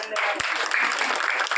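Continuous applause from a school assembly crowd honouring the prayer committee of a primary school, a dense steady clatter of many hands lasting the whole moment.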